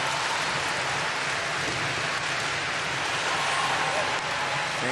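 Home crowd roars in an ice hockey arena during the women's world championship gold medal game, USA vs Finland, a dense, loud, unbroken wall of cheering noise that holds steady throughout.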